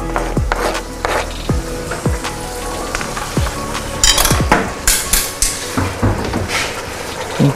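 A metal spoon scrapes and knocks around a cooking pot of Nkoulou with garlic, giving repeated irregular clacks and scrapes close by with no voices.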